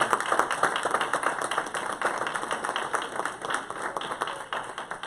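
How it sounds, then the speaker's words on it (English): Church conference congregation applauding, a sustained round of many hands clapping in a room, fairly loud and steady throughout. "Let's give her a round of applause."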